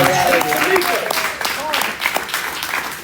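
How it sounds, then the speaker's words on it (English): Crowd applause at an outdoor town hall and rally, clapping and some cheers mixed with a loud voice talking over it, with harmonic voice tones standing out near the start. "Let's give Until Freedom a round of applause."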